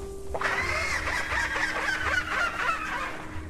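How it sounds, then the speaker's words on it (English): Rhamphorhynchus in the video game Path of Titans giving a gull-like call, a wavering squawking cry lasting a few seconds, fairly clear over a low background hum. "That is the most seagull-y call I've ever heard come out of a dinosaur."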